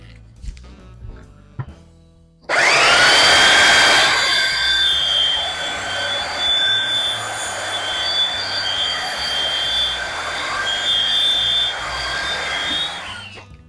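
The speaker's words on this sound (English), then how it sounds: "got a 150 belt in the belt sander. I'm just going to hit the top and the bottom" A belt sander fitted with a 150-grit belt smooths the top of a wooden end table, starting abruptly after some brief shop noise, then a loud, steady high whine and gritty rasp held close for about eleven seconds.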